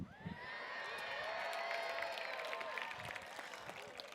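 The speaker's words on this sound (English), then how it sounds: "Thank you for the big round of applause for Mari." Graduation ceremony crowd for the Class of 2021 keeps up a broad round of clapping, with scattered cheers and whoops rising above the steady applause.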